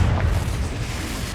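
A Confringo spell explodes in the video game Hogwarts Legacy, a loud, deep booming blast with a rumbling low-end roar that fills the whole moment without any voices.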